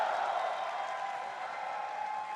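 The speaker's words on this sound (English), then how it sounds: "Applause is in order." Steady, dense applause from an esports crowd at the League of Legends Worlds 2016 semifinal, SKT vs ROX, continuous and fairly even throughout.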